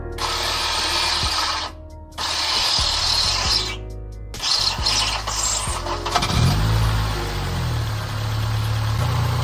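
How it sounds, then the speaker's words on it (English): Acura RSX engine starting from cold with an odd, uneven sound: a few short cranking bursts separated by brief pauses, then the motor catching and settling into a loud, rough idle close by. "So on a cold start, it sounds really weird when it starts up."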